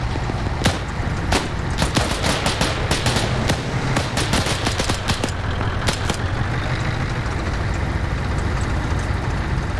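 Machine gun fire in a WW2 video game: sharp, rapid bursts of shots in quick irregular strings over a constant rumble of engines and battlefield noise, with the firing thinning out toward the end.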